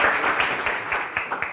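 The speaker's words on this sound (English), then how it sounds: "A big round of applause, please." Brief applause at a startup demo day, a moderate crowd clapping in uneven bursts that rise and fall over little more than a second.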